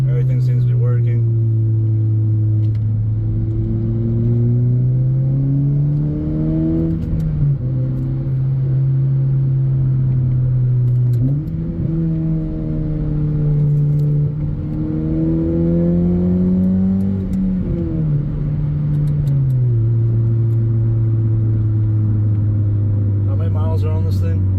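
Interior drone of an older high-mileage car with a quieter Skunk2 aftermarket exhaust while driving, a loud low engine hum rising and falling as the revs climb through gear changes.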